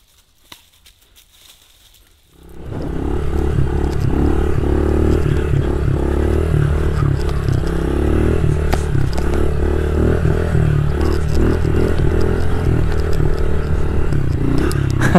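A Honda CRF110 pit bike starts up after a quiet moment and is ridden with a steady, loud engine drone, the small single-cylinder note rising and falling as it revs.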